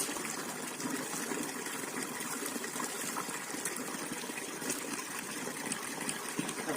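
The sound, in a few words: water splashing while washing face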